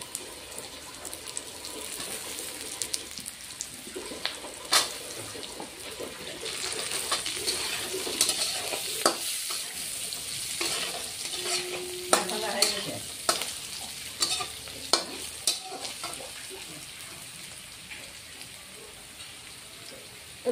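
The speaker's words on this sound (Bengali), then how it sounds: "এবার ভেজে রাখা আলুটা আবার দিয়ে দিচ্ছি।" Potatoes and onions frying in a pan, a steady sizzle running throughout with scraping stirs and clinks of a spatula, no talk.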